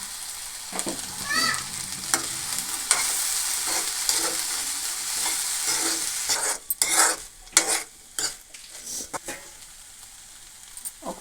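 Ivy gourd (dondakaya) curry sizzles in a pan while a spoon stirs and scrapes through it, with steady frying hiss and intermittent clacks and scrapes, close and moderately loud.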